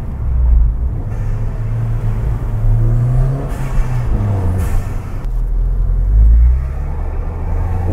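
Ford Fiesta ST Mk7 fitted with an induction kit, driven slowly at low revs, giving a loud steady intake rumble and whoosh from inside the cabin, swelling briefly as the throttle opens.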